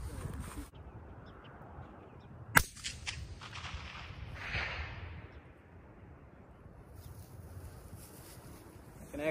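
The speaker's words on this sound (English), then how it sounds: "first off, we're gonna shoot suppressed" A suppressed rifle fires at a distant target outdoors, one sharp, short crack standing out from a quiet, windy background, with a fainter click earlier.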